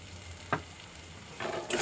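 Chili and turmeric powder frying in a pan while being stirred, a soft steady sizzle with a brief scrape of the spoon and a louder stirring rustle near the end.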